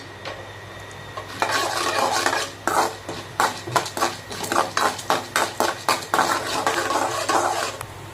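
Mustard seeds with chana dal and urad dal crackling in hot oil for oats upma, heard as a quiet sizzle broken by a quick run of sharp metallic clinks and scrapes from a spoon against the pan.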